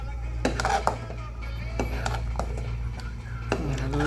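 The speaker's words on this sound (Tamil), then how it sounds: "நல்லா கிண்டிக்கிட்டே இருக்கணும்" A spoon stirs ragi porridge (koozh) in a metal cooking pot, making repeated light scraping clinks at an irregular pace over a low steady hum from the stove, with some faint talk.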